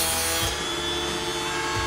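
Automatic chainsaw chain sharpener grinding a saw chain, taking off only a tiny amount of metal as it steps the chain along; a steady, close, continuous grinding whir with a faint rubbing texture and no talk.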